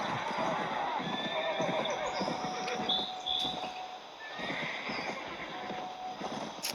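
A horse whinnies over hoofbeats clopping along in the video game Steel and Flesh 2, with a busy game-like background ambience and a faint voice underneath.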